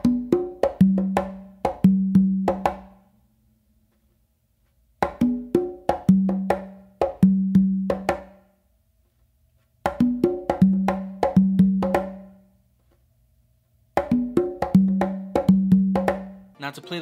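A full Afro beat pattern hand-played on congas, mixing sharp slaps with resonant low open tones in lively clustered bursts, cycling four times with short gaps between, close-miked and without talk.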